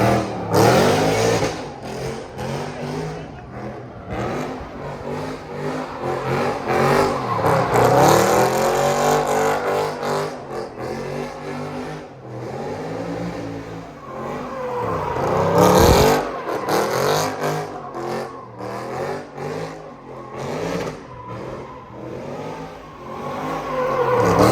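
Supercharged C7 Corvette at a street sideshow, engine revving repeatedly in rising and falling sweeps, loud and close with bursts of throttle throughout.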